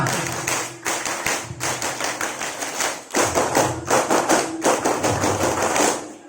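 A group at an Indonesian Saturday-Sunday scout camp performs the patterned Pramuka clap twice, fast crisp claps in a rhythmic sequence with a brief pause before the second round.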